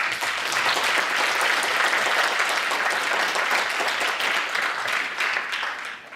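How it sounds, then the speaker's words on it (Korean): A church congregation applauds steadily and fairly loudly throughout, a dense continuous wash of clapping from many hands that tapers slightly at the end. "우리 하나님께 한번 박수로 감사합시다."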